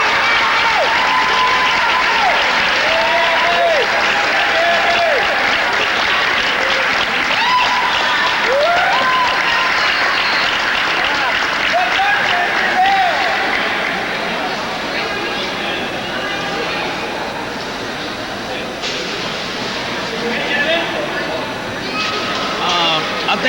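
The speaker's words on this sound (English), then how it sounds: "he deserves a real big kind of applause." Audience applause at a 1988 karate grand championship, a long and loud sustained clapping from a large crowd with some cheering and background chatter, easing slightly toward the end under a speaker talking over a PA.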